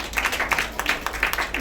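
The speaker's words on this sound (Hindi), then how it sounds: "धन्यवाद करेंगे, ताली बजाकर एक बार फिर से" An audience at a Christian fellowship gathering claps hands in steady, uneven rhythm, a short burst of applause heard fairly close with no talk over it.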